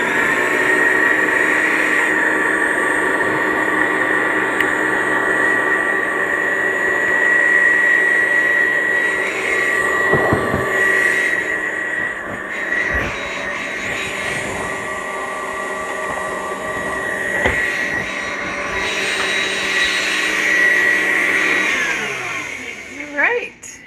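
An electric mixer whips cream with a spoonful of whiskey for Irish cream brownies, giving a loud, steady motor whine that runs nearly unbroken before winding down at the close, with a few bumps and faint talk underneath.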